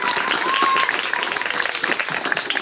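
An audience applauding a young girl named Maëlys at a gathering, dense steady clapping from many hands nearby, with voices talking over it.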